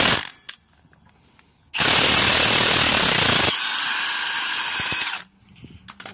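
Air impact gun removing a brake caliper bolt on a van, giving a loud sustained rattling burst of about three and a half seconds that shifts in tone partway through, close up, with workshop clatter before and after.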